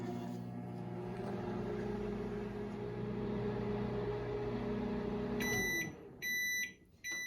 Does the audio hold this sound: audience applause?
no